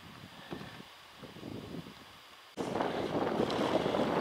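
Cold wind gusting across a snowy Scottish hillside during a winter roe deer stalk, a low rumbling buffet that swells sharply halfway through into a loud, steady roar against the microphone.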